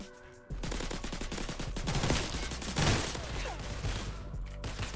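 Gunfire in the Roblox game Criminality comes as rapid, continuous bursts of loud shots with a dense rattling rhythm that fills nearly the whole stretch after a brief quiet start.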